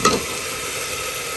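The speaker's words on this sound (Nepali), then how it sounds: "यति हालिसके पछाडि यसलाई चाहिँ हामीले एकछिन चलाउनु पर्ने हुन्छ।" A spoon stirs moong dal and rice in a pressure cooker while the jaulo for a baby cooks. A quick scrape opens the stretch, followed by a steady, soft sizzling hiss with no talking.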